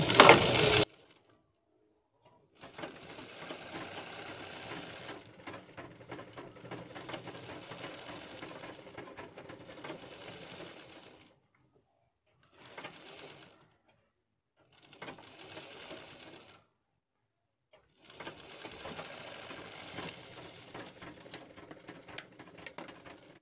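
A sewing machine stitches piping onto a kurti in several runs of steady whirring, each lasting a few seconds and separated by brief pauses, close and alone with no talk.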